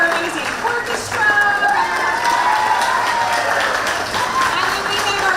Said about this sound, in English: round of applause for our choir